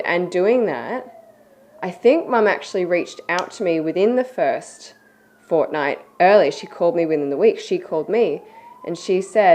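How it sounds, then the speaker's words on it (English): Police sirens wail faintly in the distance, their slow rising and falling tone running under someone talking close to the microphone. "pardon the sirens in the background"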